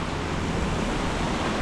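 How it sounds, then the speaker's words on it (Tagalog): Loud, heavy rain from a typhoon roars in a continuous wash of noise, with no voices over it. "lakas ng ulan."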